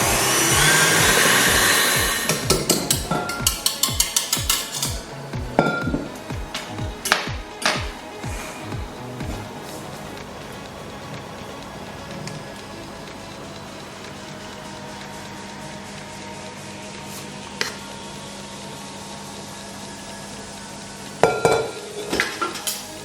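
Vegan quiche batter being mixed with salt and smoked paprika, starting with loud, rapid scraping and clattering strokes that settle into quieter, intermittent stirring with occasional sharp clinks of utensil on bowl.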